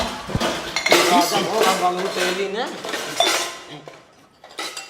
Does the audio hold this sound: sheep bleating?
no